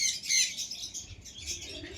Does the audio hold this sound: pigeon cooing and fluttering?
yes